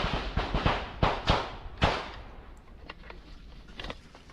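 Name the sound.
gunshots fired by Ukrainian police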